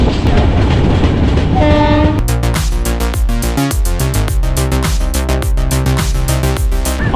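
Alleppey-Dhanbad Express pulling into Aluva station: a steady, loud rumble of wheels and carriages, with a sustained horn-like tone early on and a rapid run of rhythmic clickety-clack beats as the cars roll over rail joints.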